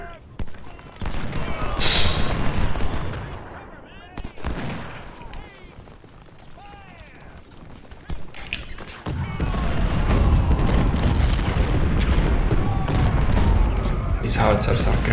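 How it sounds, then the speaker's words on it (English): Howitzer artillery and gunfire in the Ultimate General: Civil War video game, heard as a dense stretch of overlapping shots and booms that thickens into sustained, loud battle noise in the second half. "These howitzers are great."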